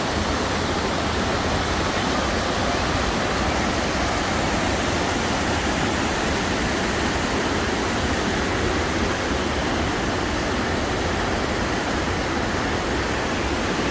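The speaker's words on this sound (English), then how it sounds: "Gotta love a waterfall." A waterfall in Rocky Mountain National Park roars in a constant, dense rush of falling water, loud and unbroken throughout, with no other sounds.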